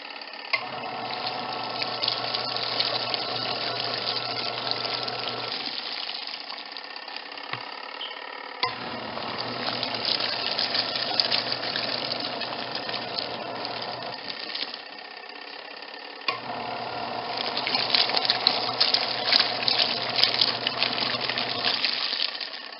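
A washing machine churns clothes in water through a full wash cycle, a steady whirring motor and sloshing water that pause briefly twice before resuming, running alone without voices.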